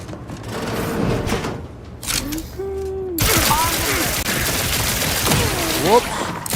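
Gunfire in the video game The Outer Worlds 2: dense rapid shots rattle through the second half amid game effects and sweeping tones, following a quieter stretch of game sound.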